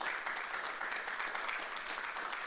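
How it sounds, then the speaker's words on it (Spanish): Faint, steady applause from a church congregation during a sermon, a soft continuous patter with no talking. "Dele un aplauso al Señor."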